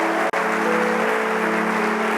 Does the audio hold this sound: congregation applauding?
yes